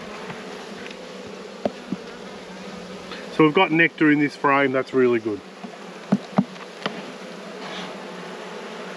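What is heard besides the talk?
honey bees buzzing in a rescue hive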